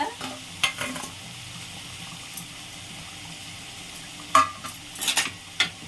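Tempering is added to a simmering Pohala fish curry, with a soft background sizzle and several sharp clinks and spatters from the pan, the busiest burst near the end.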